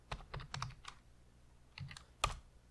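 Keystrokes on a computer keyboard come in two short bursts of typing separated by a pause, close and fairly quiet, with no talking.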